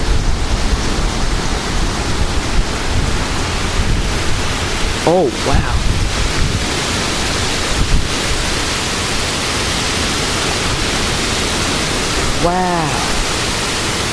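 Golfball-sized hail pours down in a supercell thunderstorm in St. Louis, a dense, steady roar of impacts throughout, with brief exclaiming voices breaking in twice.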